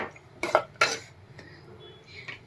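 Guvar and potatoes cooking with water and fresh green coriander in a pan get stirred with a metal spoon, producing a few sharp clinks and scrapes near the microphone, spaced out over a couple of seconds.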